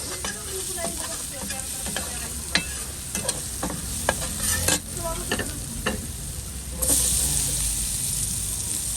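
Onions sauté in a hot pan with a loud, steady sizzle, broken by frequent scraping stirs and clinks of a utensil against the pan, the frying surging louder near the end.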